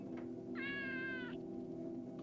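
A cat meows once, a drawn-out unhappy cry, from inside a shower, heard alone over a steady low room hum.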